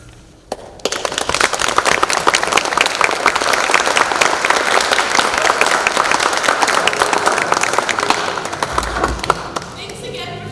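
A theatre audience bursts into loud, sustained applause at the end of a student stage play, One Stoplight Town, with dense clapping holding steady for about ten seconds before tapering off at the close.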